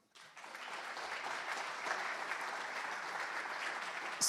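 An audience at a developer conference opening applauds the sponsors, a steady burst of many hands clapping that rises quickly and holds evenly.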